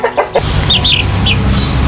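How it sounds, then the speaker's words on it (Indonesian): Chickens, including Aseel Parrot and ornamental stick-tail fowl, cluck and squawk close by, with a few short calls at the start followed by repeated higher-pitched crowing-like cries over a steady farmyard hum. "akan saya kembangkan dengan persilangan antara ayam hias ekor lidi dengan asel parot ini"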